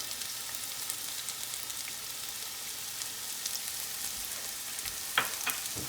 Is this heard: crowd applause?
no